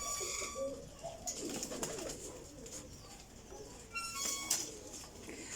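Pigeons coo softly in low, rolling calls throughout, with brief higher chirps and flutters mixed in, fairly close and moderately quiet.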